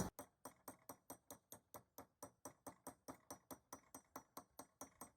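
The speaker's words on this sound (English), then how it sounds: "So I'm just going to get a hammer, and it's important to not go too fast on this" Light hammer taps flattening a copper pipe, close and steady, about five per second in an even rhythm, with no talking.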